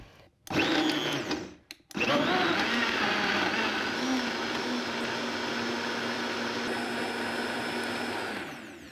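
A blender starts after a brief false start, then runs loud and steady for several seconds, a whirring motor pureeing tomato soup, before winding down at the end.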